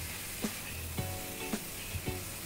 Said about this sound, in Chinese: 咁首先咧就加啲西兰花落去，咁啊爆香啲西兰花。